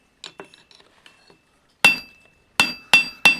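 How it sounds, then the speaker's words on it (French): A forging hammer strikes a cold metal belt buckle on a flat surface during a beginner blacksmithing project: three loud, sharp, ringing metallic blows near the end, preceded by a few quieter taps and clinks. "c'est froid, je devrais pas taper comme ça, mais bon. Pour 3 coups de marteau."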